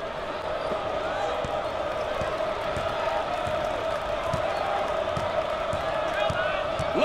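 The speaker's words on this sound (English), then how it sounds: "Listen to the crowd. You can cut the intensity with a knife." Basketball arena crowd at a college game, a steady loud roar with repeated sharp ball bounces or sneaker thumps cutting through, no clear talk.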